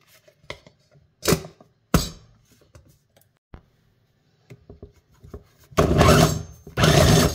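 Low carb cracker dough made with parmesan is mixed in a food processor, starting with scattered short knocks and scraping bursts and ending in two loud, sustained whirring runs near the close.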